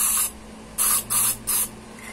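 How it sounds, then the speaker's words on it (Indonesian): Aerosol spray paint hissing from a can into its lid while repairing a helmet repaint, in three short bursts after an opening one, each under a second, close and fairly loud. "kita semprotkan ya isi catnya ke tutup kalengnya"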